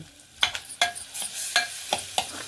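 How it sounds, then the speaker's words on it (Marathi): Ground green tomatoes and chilies with garlic go into frying onions in a home kitchen, giving a series of sharp stirring scrapes and bursts of sizzle at a steady rhythm, close and moderately loud, with no talk. "आता त्याच्यामध्ये हिरवे टमाटे मिरच्या वाटलेले ॲड करीत आहे"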